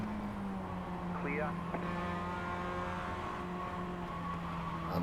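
Race car engines at Lime Rock in the iRacing sim drone steadily at a moderate level, with a brief rising-and-falling pitch sweep as a car shifts or passes, under a faint background.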